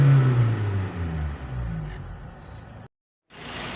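Ford Everest 2.2 diesel engine revving under an open hood in a repair shop, a loud rising then falling drone that stops abruptly before a short burst resumes.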